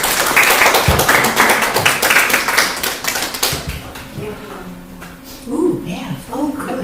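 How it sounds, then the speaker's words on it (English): Audience applause in a hall during a talk at a community gathering, a dense burst of clapping for the first few seconds that quickly fades, followed by a speaker's voice. "Just give yourself that applause"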